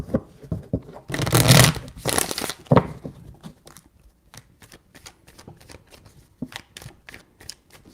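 A quick burst of papery riffling and flapping as a tarot deck is shuffled, followed by scattered soft taps and card clicks, close and fairly loud.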